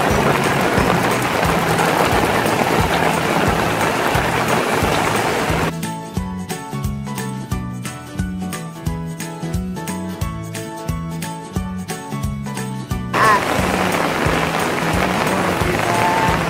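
Rain falls on a car, a dense steady hiss that is briefly replaced midway by a run of rapid rhythmic tapping before the heavy downpour returns.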